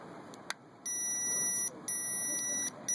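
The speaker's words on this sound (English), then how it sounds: "it's throwing you a low voltage warning alarm at you" A power supply's low-voltage warning alarm beeps in long, steady high-pitched tones, two sustained beeps after a couple of short clicks, loud and close.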